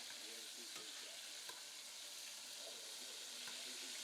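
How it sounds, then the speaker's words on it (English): Rabbit pieces fry in oil as a faint, steady sizzle with occasional small pops and light stirring scrapes. "Let them pop in that oil a little bit."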